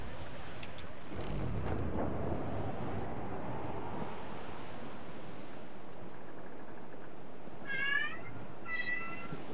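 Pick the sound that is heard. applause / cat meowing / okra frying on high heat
cat meowing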